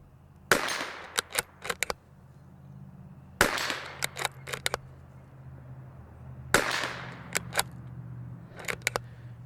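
Three sharp, loud cracks from a Bergara BMR X .22LR steel-chassis rifle fire outdoors, spaced about three seconds apart, each followed by a few quick metallic clicks of the action cycling.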